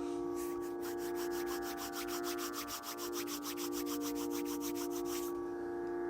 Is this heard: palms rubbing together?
yes